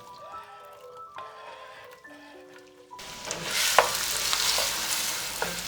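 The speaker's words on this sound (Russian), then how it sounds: "Сейчас немножко масла разогреется, и мы опускаем сюда лучок." Onion drops into heated vegetable oil and butter, and after a quieter moment a loud, bright sizzle of frying bursts in and continues steadily.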